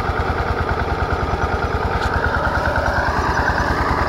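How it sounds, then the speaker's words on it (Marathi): A small engine on a pesticide sprayer runs loud and close, its steady rapid thumping pulse holding an even rhythm throughout with a faint mechanical clatter. "इकडे आपलं इंजिन चालू केलं, औषध आहे, औषध केले"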